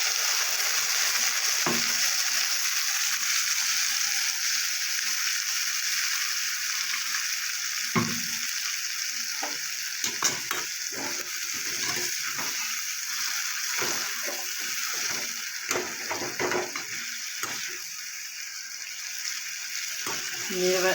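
Continuous loud sizzling of cauliflower stems frying with mustard-poppy paste in a pan, close up, with scattered scraping stir strokes and clicks breaking through the steady hiss.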